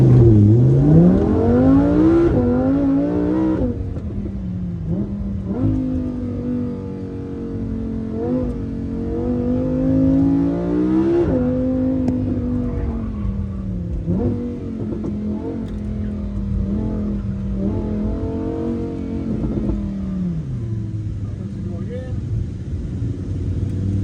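A Lamborghini accelerates at a Hawaii autocross event, its engine revving loudly and close with rising and falling pitch sweeps through gear changes, continuous over about twenty seconds, with voices talking over it.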